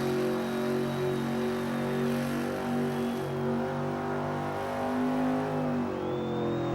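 A small Chevrolet's engine holds high revs during a burnout at a car show competition, a loud, sustained droning roar with slight pitch wavering and no voices.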